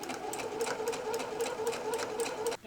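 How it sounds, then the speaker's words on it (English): A sewing machine running steadily up close, stitching a 3/8-inch seam around a loungewear neckline, a continuous rhythmic hum with rapid needle ticking that stops abruptly at the end. "I will sew a 3/8 of an inch seam around the whole thing."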